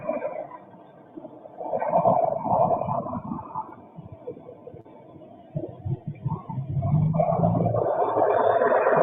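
Recorded audio rewinding, a warbling, rumbling whir that shifts in pitch and swells louder toward the end, with no talking.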